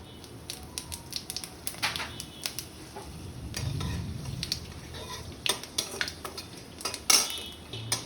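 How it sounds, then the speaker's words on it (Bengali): Bay leaf, dried chilli and panch phoron fry in hot oil in a home kitchen, with a soft sizzle under repeated sharp clinks and scrapes of a spatula against the pan. "আমার পাঁচফোড়ন শুকনো লঙ্কাটা একটু ভাজা ভাজা হয়ে গেছে"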